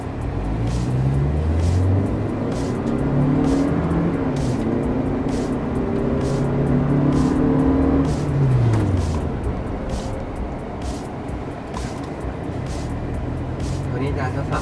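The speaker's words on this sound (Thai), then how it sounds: "ตรงนี้จะทดสอบอัตราเร่งนะครับ" A Toyota car accelerating on a driving test track, a loud engine rising in pitch through several gear changes over a steady road rumble, with someone talking over it throughout.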